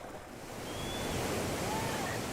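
Water at the source of the Nile on Lake Victoria gives a steady, broad wash of moving water and surf, with wind buffeting the microphone and growing slightly louder.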